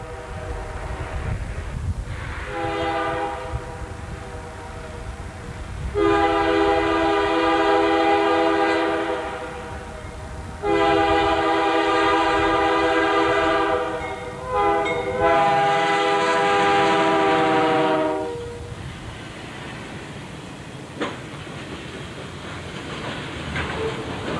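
An eastbound freight train led by a C39-8 locomotive with a new C40-8 trailing sounds its horn in three long, loud blasts over the steady rumble of the passing train, with no one speaking.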